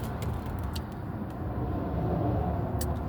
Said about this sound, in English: I'm trying to watch the traffic, y'all.